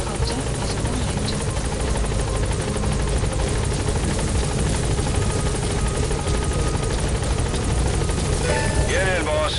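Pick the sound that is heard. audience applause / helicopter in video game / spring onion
helicopter in video game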